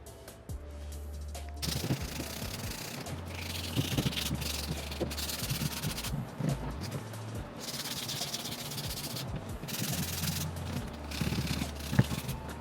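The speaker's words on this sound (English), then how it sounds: "I sanded it down with 220 grit." Car interior trim is hand-sanded with 220 grit sandpaper, producing close, continuous rhythmic scratching strokes over a low steady hum.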